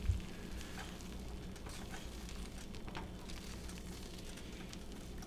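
Eggs sizzling in a non-stick pan for an omelette, a steady, fairly quiet frying hiss that stays constant, with a small knock at the very start and no talking.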